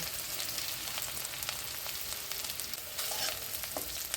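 Chopped onion and garlic fry in hot oil in a home kitchen pan, with a steady close sizzle and crackle throughout and a few sharper pops, no voices over it.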